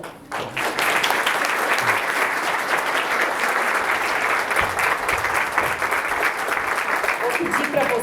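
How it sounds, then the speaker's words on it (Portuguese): An audience at a talk breaks into sustained applause to welcome a speaker onto the stage, a dense, loud wash of clapping that swells quickly and holds steady to the end. "com uma salva de palmas"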